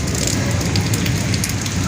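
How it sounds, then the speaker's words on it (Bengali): Heavy rain falls at night during a thunderstorm, a loud, dense and unbroken hiss and patter close by, with no voices. "এখনো বৃষ্টি থামেনি, এখনো বৃষ্টি হচ্ছে।"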